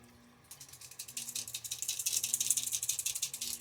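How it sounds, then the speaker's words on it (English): Small beads rattle inside a sinking jerkbait fishing lure, shaken in hand as a fast, steady run of bright clicking rattles that builds after a brief quiet start, close and fairly loud, with no voices. "Got a nice rattle to it."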